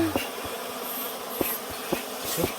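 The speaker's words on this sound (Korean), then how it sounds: "꿀보다 벌이 많은데요" A swarm of native Korean honeybees buzzes around an opened hive, a dense steady hum with a few louder passes of bees flying close to the microphone.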